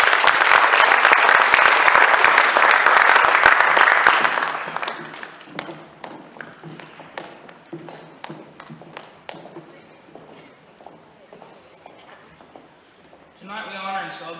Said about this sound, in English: Please give these scholars a round of applause as they exit the stage.